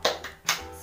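A classroom of children doing the rhythmic Indonesian 'tepuk semangat' spirit clap, heard as a few quick, sharp claps in a short patterned burst, fairly near and with no talking over them.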